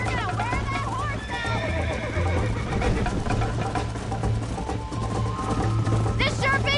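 A horse whinnies in sharp rising squeals while hooves clip-clop steadily nearby, with people talking over the action and another neigh bursting out near the end.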